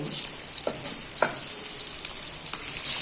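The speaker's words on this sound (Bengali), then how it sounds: "এই ফোড়নের মধ্যেই আমি ফার্স্ট এই যে পেঁয়াজ যে কেটে রেখেছি পেঁয়াজটাকে ছেড়ে দেব" Chopped onions frying in hot tempered oil for a ridge gourd dish, giving a steady, close, bright sizzling hiss with a few soft stirring scrapes and no talking.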